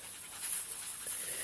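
A pet dog panting steadily indoors, a soft rapid breathy rhythm held close and continuous for a moment.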